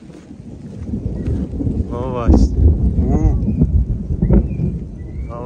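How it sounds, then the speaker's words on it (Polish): A low, rolling rumble of thunder during the rainy season in the Philippines swells and fades in the background while a person talks over it. "Zaraz usłyszycie pewnie, bo piorun walnął niedawno."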